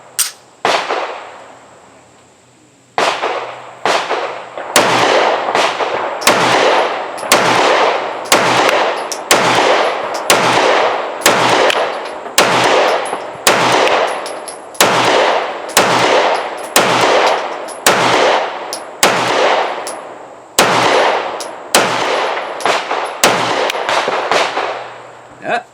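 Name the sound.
Sarsilmaz 2000 9mm pistol firing Winchester 115 grain rounds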